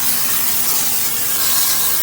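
A steam cleaner hisses steadily and loudly on a car during detailing, a continuous close broadband spray with no pauses.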